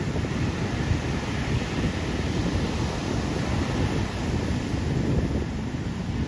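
Sea waves breaking on Tannirbavi beach in Mangaluru, a steady loud wash of surf mixed with heavy wind buffeting the microphone, continuous with no pauses and no voices.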